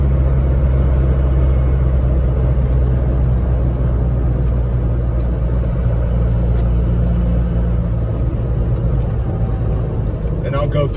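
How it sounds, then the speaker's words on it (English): Turbo spooling on a 1990 Range Rover Classic while driving at about 13.5 PSI of boost, heard inside the cabin as a steady, loud engine and road drone under someone talking. "Hear the turbo spooling, but it's spooling pretty good right now."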